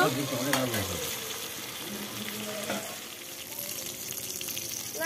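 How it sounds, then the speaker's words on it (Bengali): Potatoes frying in oil in a home kitchen pan, a steady crackling sizzle running throughout with a brief voice near the start. "আলু ভাজা বসিয়ে দিয়েছিলাম, আলু ভাজা হয়ে গেছে।"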